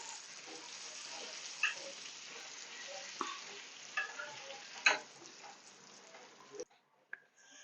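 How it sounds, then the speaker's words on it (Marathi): Rava-coated fish sizzling steadily as it fries in oil on a tawa for a Koli-style fish thali, with a few sharp pops and spatters before the sound cuts off near the end. "ते टाकूया तव्यात"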